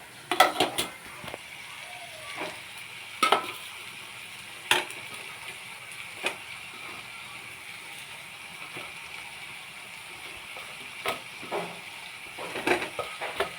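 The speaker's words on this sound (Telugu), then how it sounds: "ఇవి వేసేసుకుని ఇలాగ ఒక 2 నిమిషాలు ఇలా వేపుకొని" Taro root pieces frying in a pan with softened tomatoes while being stirred, a quiet steady sizzle broken by scattered clinks and scrapes of a utensil against the pan.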